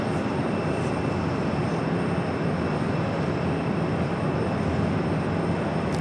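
A British Airways airliner flying near Phoenix Sky Harbor airport produces a steady, broad jet engine roar, constant and fairly loud throughout without talking.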